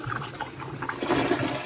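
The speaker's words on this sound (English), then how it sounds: "All right, let's try one more flush and see how we do." A Kohler toilet flushes close up, a continuous rushing swirl of water draining through the bowl, loud and steady with no voices.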